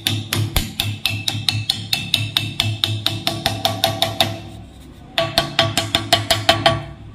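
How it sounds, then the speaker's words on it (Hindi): A metal bush is hammered into the shuttle of a Pico sewing machine, with two fast runs of sharp, evenly spaced metallic hammer taps, about twenty then eight, separated by a brief pause, close and loud. "और ऊपर से ठोक देंगे इसको ऐसे"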